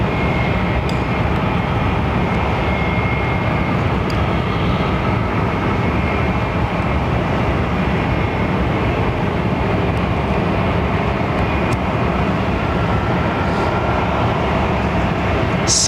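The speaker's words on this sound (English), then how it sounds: "Simon Slocum, I can definitely hear vortex with the landings." A jet airliner lands at London Heathrow, a steady, loud broadband roar holding for the whole stretch with little change, the wake rumble blending into the engine noise.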